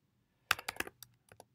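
A quick burst of keystrokes on a computer keyboard while typing into InDesign, several rapid clicks then a few scattered taps, close and fairly quiet with no talking.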